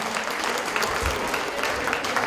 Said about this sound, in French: Applaudissez ce monsieur.